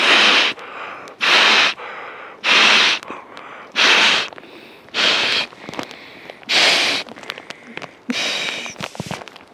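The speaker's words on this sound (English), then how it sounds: "A couple of breaths and we have this inflated." Seven or so long, forceful breaths blown into an inflatable plush-felt camp pillow, each a loud close whoosh lasting under a second, separated by short pauses with faint rustling.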